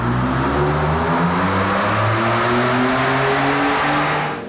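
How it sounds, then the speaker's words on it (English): Ford F-150 EcoBoost pickup with a new intercooler accelerating hard from a standstill in a 0 to 60 run, engine revving loudly and steadily climbing in pitch through the gears, close and continuous with no talking. "We got to get this thing out and do another 0 to 60 blast."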